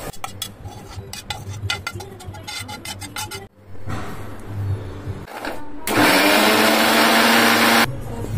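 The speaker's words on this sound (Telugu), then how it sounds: "ఇప్పుడు వీటిని చల్లార్చుకొని మెత్తగా మిక్సీ పట్టేసుకుందాము" A mixer grinder blends cooked vegetables into a smooth pasta sauce. Clattering and handling sounds come first, then a short motor burst, then a loud, steady, close whirring grind that runs for about two seconds and stops abruptly.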